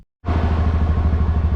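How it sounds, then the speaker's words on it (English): A quad ATV engine on a rough dirt road in Arizona kicks in abruptly and rumbles on loudly and steadily, close by, with a rough, throbbing low drone. "Sorry about the quad noise"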